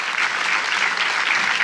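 Sustained, dense clapping from a cinema audience at a Paris film premiere, steady and loud throughout with no pauses or voices over it.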